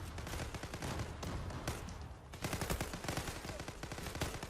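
Rapid bursts of automatic gunfire crackle through a Zula online shooter match, dense and loud with near-continuous shots, a brief lull, then heavier firing resuming.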